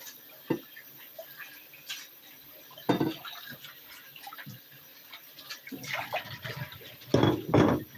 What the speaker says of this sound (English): I'm gonna use this bowl. I'm gonna rinse it.